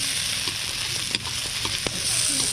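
Onion and tomato frying in a pan give a steady broadband sizzle, with occasional stirring clicks and scrapes on top, fairly close and continuous throughout.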